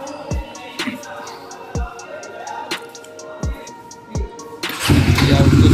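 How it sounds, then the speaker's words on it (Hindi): Bajaj Dominar 400 BS6 2022 motorcycle cranking in several short, loud, separate bursts, then catching and settling into a steady, deep idle at the end. "चलिए अब आपको इसका एग्जॉस्ट साउंड सुनाते हैं।"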